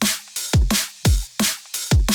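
Dancefloor drum and bass drum loop with punchy kicks, snares, bright hi-hats, cymbals and rides, hitting in a fast syncopated pattern with deep thumping low hits, loud and alone.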